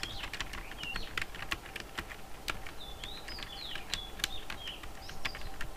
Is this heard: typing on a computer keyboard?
yes